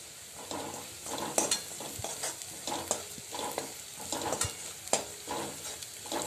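Turmeric, asafoetida and salt are stirred into onion, chilli and garlic frying in a pan, making a soft steady sizzle with repeated spatula scrapes and taps at an uneven pace. No voices.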